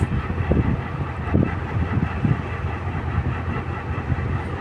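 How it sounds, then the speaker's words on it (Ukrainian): Passing train rumbling steadily along the railway tracks, with low rolling wheel noise and faint rhythmic clicks, moderately near and continuous with no talk. "От такий поїзд у нас."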